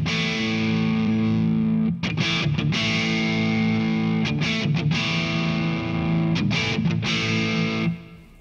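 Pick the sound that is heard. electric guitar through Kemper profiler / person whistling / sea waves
electric guitar through Kemper profiler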